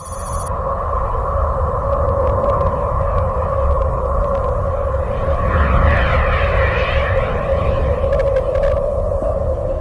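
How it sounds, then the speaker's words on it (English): Electromagnetic waves from the gas giant Uranus, picked up by the Voyager 2 spacecraft's plasma wave antenna and rendered as sound: a steady, eerie whistling drone with sustained tonal bands and a swelling, shimmering middle section. "This is the sound of the electromagnetic waves coming from the gas giant Uranus, as recorded by the Voyager 2 spacecraft's plasma wave antenna."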